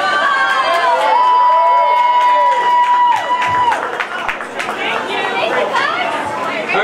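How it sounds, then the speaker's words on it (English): A crowd at a Comic Con cosplay parade claps and cheers loudly, with chatter and shouts running throughout and a sustained whistle-like tone over the noise. "Alright, one more round of applause, guys!"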